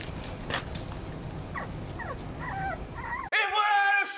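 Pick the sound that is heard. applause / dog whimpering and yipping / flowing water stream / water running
dog whimpering and yipping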